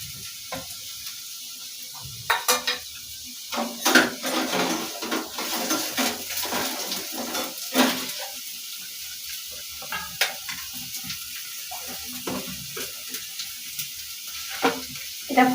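Capsicum and onion fry in a hot pan with a soft crackling sizzle, broken by frequent clinks and scrapes of a utensil stirring against the pan.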